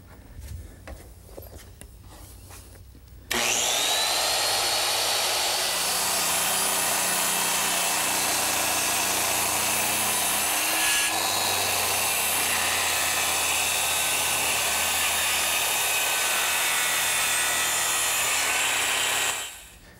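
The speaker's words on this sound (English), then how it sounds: "I'm ready to cut them with my circular saw" A circular saw cuts through two nailed gable boards clamped in a bench vise, a loud sustained whine that starts abruptly after some quiet handling noises and runs steadily for about sixteen seconds before winding down.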